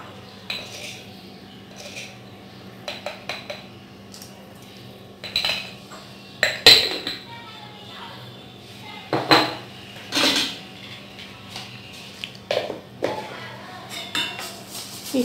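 Cutlet mixture being stirred with cornflour and salt in a bowl, giving scattered clinks and scrapes of a utensil against the dish in irregular bursts, fairly close, with a faint steady hum underneath and no talking.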